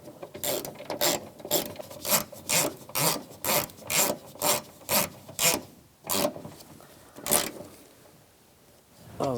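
A ratchet tightens bolts on the rear door check of a 2004-2009 Toyota Prius, rapid clicking bursts repeating in a steady rhythm, close by, pausing and resuming near the end.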